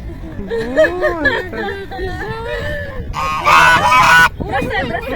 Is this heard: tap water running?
no